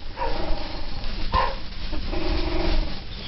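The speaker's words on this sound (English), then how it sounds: "look at him growling and barking." A bully-breed dog barks and growls close by at Tunnel Springs, its rough, repeated vocalizations filling the stretch with a sharper yip near the middle and continuing without pause.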